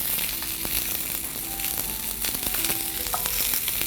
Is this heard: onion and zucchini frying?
yes